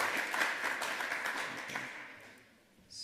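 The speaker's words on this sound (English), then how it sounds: "give him a round of applause for doing that early this morning" An audience at a hacker conference's lightning talks claps for a presenter; the applause is loud at first, then thins and fades out toward the end.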